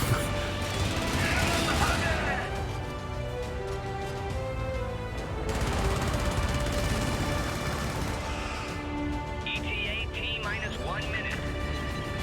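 A strafing run in the video game Helldivers fills the scene with continuous loud gunfire and explosions, rattling bursts under layered game music and effects.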